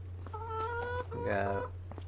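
Chickens cluck in a chicken coop in the Farming Simulator 25 video game, with a few short, tonal clucks heard close over a steady low hum.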